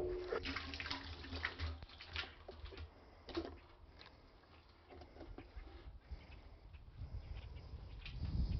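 Crude pine gum poured into a barrel during turpentine work gives a soft, steady watery gush and trickle, close and continuous with small splashes, without any voices.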